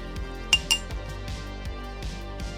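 Burnt umber and lamp black paint being stirred into an oil wash in a glass jar, giving a quick run of light rhythmic clinks and taps from the mixing tool against the glass, with two brighter knocks near the start.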